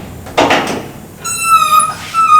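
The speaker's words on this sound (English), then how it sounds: "That creak in the door, every time I hear that creak" An old door creaks open with a thin, drawn-out squeal that wavers in pitch, following a short scrape and set against a faint background hiss.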